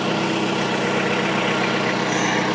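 A 1985 Cadillac Cimarron idles after months of sitting, its engine a constant loud, dense drone with a fast, even low pulse that holds unchanged throughout, heard alone without talking.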